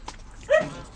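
Patchot the dog gives a single short whimpering yip that rises sharply and then fades, heard close and faint over low room noise.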